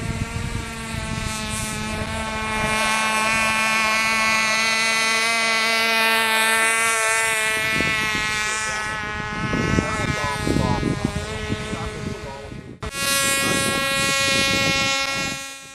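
An RC model airplane's electric motor spinning a 7.6 APC propeller at takeoff gives a loud, sustained high-pitched whine with a buzzing insect-like tone that dips and surges, then cuts sharply and restarts near the end.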